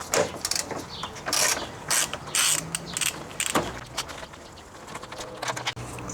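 A socket ratchet loosens the 12 mm upper passenger-side radiator bolt on a Lexus GX460, giving irregular close clicks and metallic creaks against a background hiss.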